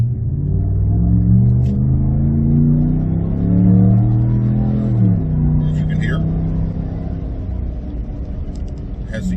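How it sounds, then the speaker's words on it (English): A 2019 Ram Big Horn 4x4 pickup with an aggressive-sounding exhaust gives a low, rumbling engine rev that rises and falls over several seconds, heard close and steady with faint talk in the background. "I'll give it a little bit of gas."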